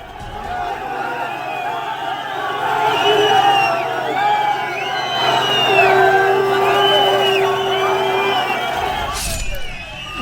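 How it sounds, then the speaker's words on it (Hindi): A large Hindu crowd at a protest in Mandi, Himachal Pradesh, raises continuous loud, overlapping shouts and cheers with a steady roar throughout. "हिंदुओं की भीड़ उतनी ही जोर से जय श्री राम का जयकारा लगा रही"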